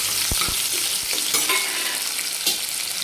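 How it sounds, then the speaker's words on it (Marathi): Chopped onion fries in hot oil after a cumin tempering, giving a close, continuous sizzle. A spatula scrapes and stirs through it with a few sharp knocks against the pan. No one speaks. "कांदा पण आपल्याला दोन ते तीन मिनिट चांगला परतून घ्यायचा आहे"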